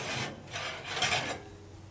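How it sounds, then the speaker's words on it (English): A metal oven rack slides out of a Chambers stove, giving two drawn-out rasping scrapes close by, one after the other, with no talking. "In the oven, you're going to take out the rack."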